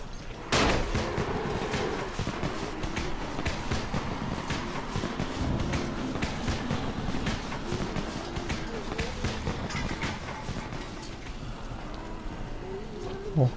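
Rapid, sharp popping bursts of firecrackers in the video game Dying Light crackle in irregular clusters for several seconds over a busy background, going off in quick succession.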